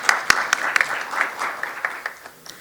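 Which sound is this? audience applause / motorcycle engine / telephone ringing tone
audience applause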